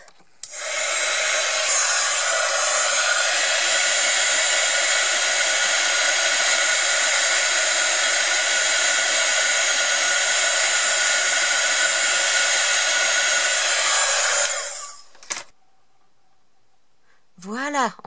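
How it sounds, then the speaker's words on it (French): An electric heat gun for heat embossing blows steadily and loudly for about fifteen seconds as a continuous broad airy roar, then cuts off, leaving a brief quiet tail with a faint voice. "je vais faire fonctionner le pistolet chauffant"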